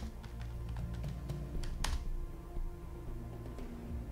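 Soft, rapid key taps on a PC desktop computer keyboard patter irregularly for a few seconds, one sharper keystroke standing out, quiet and close with no talking.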